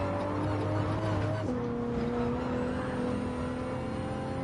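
Race car engines in the Gran Turismo 7 racing game, a steady droning roar with a shifting engine pitch as the car changes gear, continuous and fairly loud.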